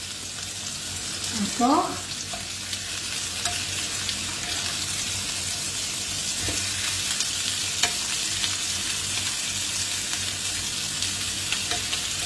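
Veal osso buco browning in butter and oil in a pan, a steady loud sizzle and crackle throughout with occasional scrapes as the meat is turned, and someone speaking briefly.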